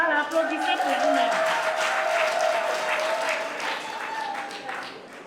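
Audience applause at an N'Lonako anniversary gathering, a dense, continuous wash of clapping mixed with voices and cheering that swells early and holds steady before easing slightly toward the end.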